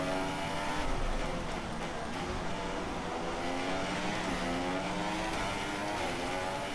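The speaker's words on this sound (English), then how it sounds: "Oh, lots of wheel spin there." Formula One car engine screaming at high revs as its soft tyres spin, from the racing game F1 2016 at the Baku street circuit; a steady, loud, rising and falling engine whine throughout, with no talking.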